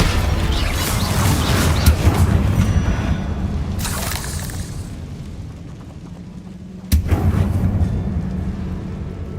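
Bombarda blasting spells cast in the video game Hogwarts Legacy, a loud rumbling explosion that swells and fades, followed by a sharp crack and a second booming burst that rumbles on.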